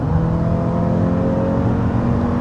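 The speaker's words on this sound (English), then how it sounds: "punch it, even at full throttle, it is still pretty quiet. The engine is definitely pretty refined sounding" The hybrid engine of a 2026 Hyundai Palisade Hybrid accelerates at full throttle, heard from inside the cabin as a loud, steady, even drone with a smooth tonal hum and no talking.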